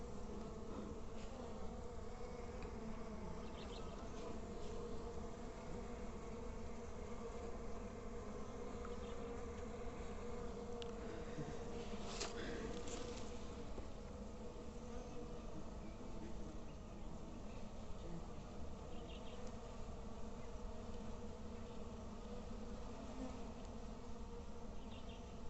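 Honey bees swarm at a beehive being colonized, filling the air with a dense, continuous droning buzz from many insects that stays steady and close throughout, with no talk.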